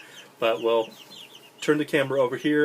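Young chickens cluck and squawk in bursts close by, noisy and repetitive, while someone talks over them.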